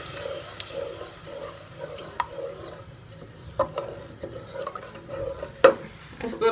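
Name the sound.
sautéing masala with tomatoes and yogurt in a pan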